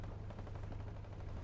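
Rapid automatic gunfire from the war video game Foxhole, during a counterattack toward a bridge, rattles on as a steady, dense barrage of shots, fairly quiet and without pauses.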